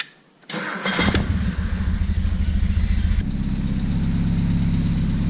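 A Triumph Spitfire engine with a new distributor cranks and catches, revving briefly before settling into a steady, loud, rhythmic idle around 1,000 RPM close by.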